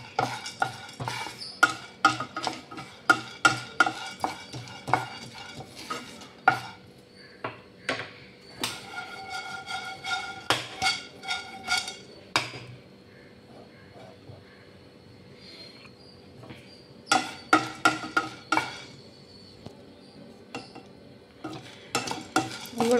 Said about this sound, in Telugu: ఇప్పుడు 1 కప్ పల్లీలకి 1/2 కప్ పుట్నాల పప్పు. ఇవి కూడా స్లోగా ఫ్రై చేసుకోవాలి.